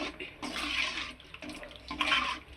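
Water splashes into a cooking pan of sautéed chili powder for a lentil-dumpling curry, in two short pouring bursts with a brief pause between them.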